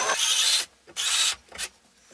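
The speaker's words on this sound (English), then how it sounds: "And you countersink both those holes down about 5 eighths of an inch." A half-inch 90-degree countersink bit cutting into a wooden board in short, close bursts of harsh grinding, three strokes with brief pauses between them.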